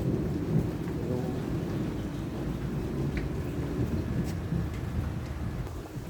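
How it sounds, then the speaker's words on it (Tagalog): Heavy rain pours steadily while low thunder rumbles throughout, a dense, continuous wash of storm noise. "naririnig nyo mga kuwela, kumukulog"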